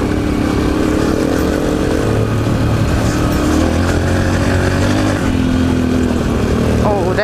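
A TTR 125 dirt bike rides trail through pure sand, its engine a loud, close, continuous drone that shifts pitch slightly as the throttle changes, with wind noise throughout.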